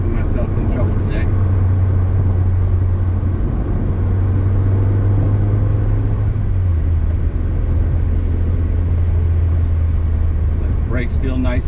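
A 2010 Mazda Miata engine drones steadily from inside the cabin on a test drive, a loud low hum that rises through the gears, with a pitch drop midway as it shifts.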